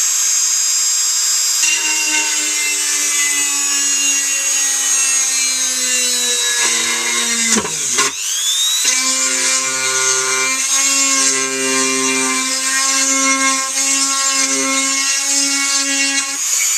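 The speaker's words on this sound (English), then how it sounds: "When you're drilling this, make sure your hand's not underneath" A power drill whines continuously at close range, its pitch dipping briefly as it bites into a Boba Fett replica helmet, then steadying again; no one speaks.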